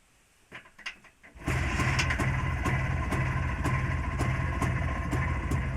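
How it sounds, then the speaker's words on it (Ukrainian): A JAWA 350 motorcycle engine with a fault keeping it from revving up: a few faint clicks and attempts, then it catches and settles into a loud, steady idle with a regular ticking beat. "завожу мотоцикл. Включаю зажигання."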